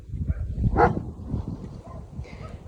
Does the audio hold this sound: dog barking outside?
yes